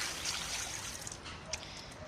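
Faint, steady hiss of water being poured onto coconut coir, a soft trickle with a few small splashes, quiet and continuous.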